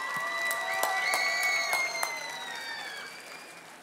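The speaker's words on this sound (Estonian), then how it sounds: "Võib plaksutada selle peal." An outdoor crowd in Freedom Square at opening speeches for the Estonian presidency of the EU Council claps in a dense, steady wash of applause, with a few cheers and whistles rising over it, gradually fading.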